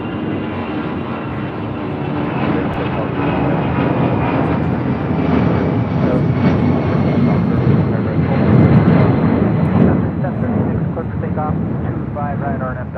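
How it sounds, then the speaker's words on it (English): Delta Air Lines Boeing 757-200 taking off from LAX, a loud, close jet engine roar that builds and holds with rumbling texture, while people talk over it. "This is Delta Airlines 8949 taking off to Phoenix on a 757-200."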